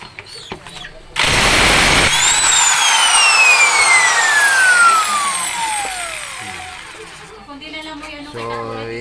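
A power tool loosens a stubborn 24 mm nut on a Honda Click scooter, a loud sustained whine with a pitch that falls steadily over several seconds and then cuts off, with brief talk before and after.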